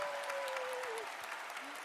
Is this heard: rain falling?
no